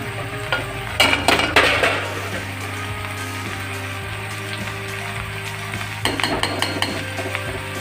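Ridge gourd is stirred in a pan with a spoon, giving scraping clinks and soft sizzling, with louder bursts of metal clatter near the start and again toward the end.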